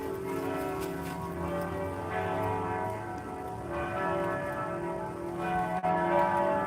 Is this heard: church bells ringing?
yes